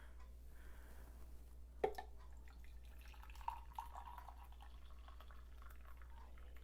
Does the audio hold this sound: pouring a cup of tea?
yes